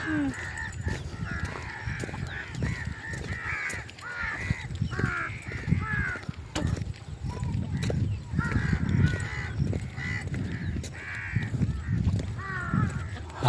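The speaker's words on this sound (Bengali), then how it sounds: "হাজার হাজার পাখি।" A huge flock of birds beside a river calls continuously, with overlapping harsh caws and honks, some loud and near and others farther off, in a dense, restless chorus.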